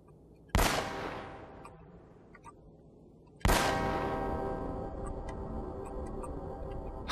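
Two bell strikes ring out in the video game Uncharted, each a sudden loud metallic clang decaying into a long shimmering resonance, the second overlapping busier game sounds.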